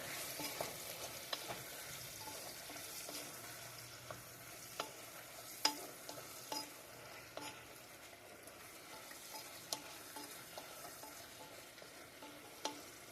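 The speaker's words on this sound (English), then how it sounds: "Keep stirring them. You don't want them burnt. You want them like a fried apple." Apple pieces fry quietly in a pan under a soft, steady sizzle while a utensil stirs them, giving faint scrapes and small clicks at uneven intervals.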